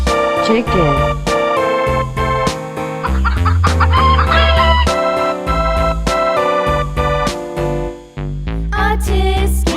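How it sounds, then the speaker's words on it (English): A rooster crowing and chickens clucking play over a bright children's nursery-song backing, with melodic accompaniment and a loud sung voice throughout and the bird calls mixed into the music. "Chicken."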